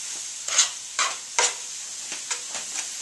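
Spices sizzle softly in a hot pan, a faint steady hiss broken by several brief scraping stirs.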